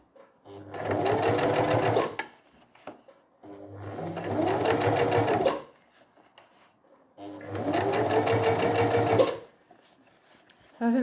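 A sewing machine runs in three separate bursts of about two seconds each while stitching a V-neck facing seam, its close, rapid whirring stitching separated by short quiet pauses.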